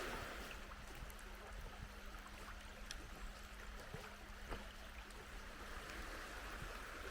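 A small river flows in a steady, broad wash of rushing and trickling water, continuous and close, with no voices.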